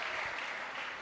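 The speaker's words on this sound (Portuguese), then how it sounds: "queria mais uma vez pedir a salva de palmas para a irmã Isabel Chipaca" Audience applause at a gospel thanksgiving concert, a steady wash of many hands clapping throughout a short stretch.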